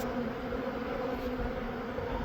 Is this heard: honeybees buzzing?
yes